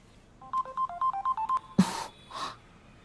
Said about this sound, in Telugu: మ్యామ్, ప్రైవేట్ నెంబర్ నుంచి కాల్.